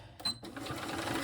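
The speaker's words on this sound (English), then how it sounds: "What are you doing, sewing machine?" A small home sewing machine labors through thick layers of a crossbody bag, a brief strained mechanical whir with a short high whine, close and moderately loud with no talking.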